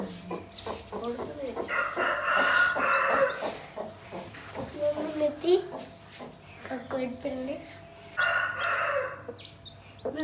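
A hen clucks beside her newly hatched chicks. Her repeated clucks and calls sound close and moderately loud, mixed with human voices at times.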